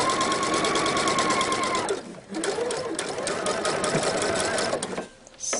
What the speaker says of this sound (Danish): når jeg syr op her